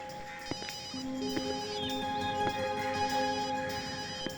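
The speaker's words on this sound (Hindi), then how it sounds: "सर घंटी बज रही है।" A phone ringtone plays softly, a melodic electronic tune repeating in short phrases, somewhat distant and with no voices over it.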